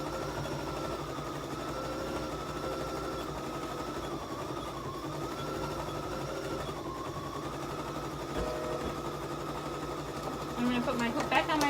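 A home embroidery machine stitches out a pumpkin-shaped tack-down line, running as a steady, close mechanical hum with rapid needle rhythm throughout, with a few brief clicks near the end.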